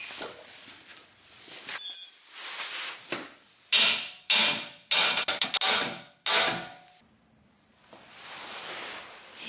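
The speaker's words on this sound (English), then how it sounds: "I'm going to leave it there and I'm going to smack it with a hammer" A few sharp metallic hammer blows strike a car's ball joint close by, separated by pauses, with scraping and rustling noises around them.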